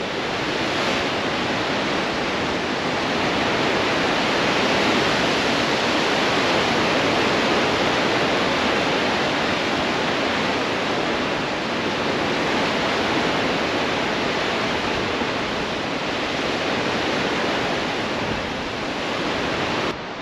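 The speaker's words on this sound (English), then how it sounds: "As the ocean comes rushing in there." Continuous roar of ocean surf rushing into a sea cave at Thunder Cave on the Great Ocean Road, a broad steady wash of water surging and churning without pause, loud and close, with no voices.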